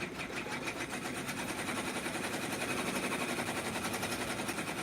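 A computerized embroidery machine stitches an Easter basket design onto fabric, a steady, fast mechanical whir with rapid needle chatter running continuously and evenly throughout.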